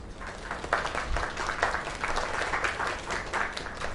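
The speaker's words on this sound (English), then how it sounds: "Another round of applause." Steady audience applause in the video game Lake, dense clapping that holds at an even level throughout.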